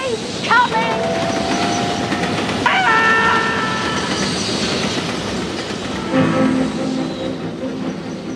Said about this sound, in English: Listen, there's another train coming.